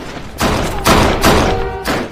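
Loud gunfire in a gangster film shootout: four heavy booming shots in quick uneven succession, each a sharp thudding blast with a short echoing tail, close and dominant.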